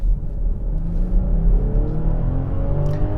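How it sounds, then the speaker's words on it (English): A 2023 BMW X5 xDrive40i accelerates hard, its engine droning loud and close with a pitch that climbs steadily over a few seconds and no talking. "when you punch it like that, you're just off and going."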